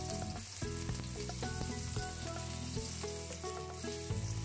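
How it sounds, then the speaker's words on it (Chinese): Slices of ginger frying in oil in a pan over medium-low heat before fish goes in, a close, continuous sizzle with clinks and scrapes on top. "我哋开中细火放油，跟住放姜"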